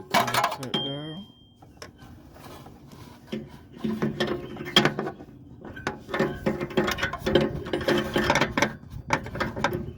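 A ratchet wrench tightening an upstream oxygen sensor on a 2005 Pontiac Montana SV6, rapid clicking pawl strokes in close repeated bursts, with a person talking briefly.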